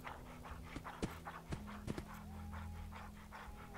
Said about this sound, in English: That was a dog.